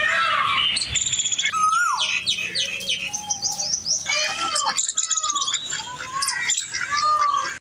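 Many birds sing and chirp densely together in a home mini zoo holding birds from Pakistan and other countries, with overlapping tweets and calls continuing throughout, fairly loud and close.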